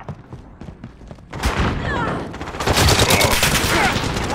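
Bursts of MP5 gunfire in a video game killhouse, dense rapid shots building from quieter sparse pops into a loud sustained fusillade, with voices faintly mixed in.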